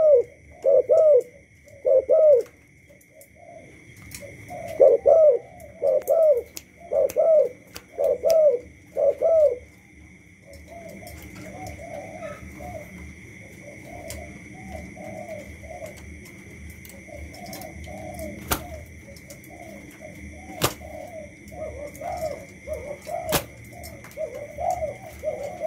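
Thai black dove cooing repeatedly in rhythmic bursts, close and clear at first, then continuing more softly in a steady series over a constant background hum.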